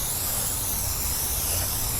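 Continuous close hiss of spray paint being applied to a mini split air conditioner unit, steady and unbroken throughout.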